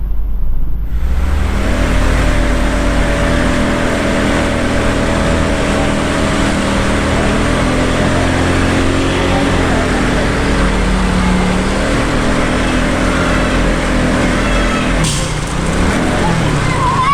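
A motorcycle pushes through deep flood water during a storm, its engine held at a steady high rev with a constant loud roar and water noise that continue throughout, close and unbroken.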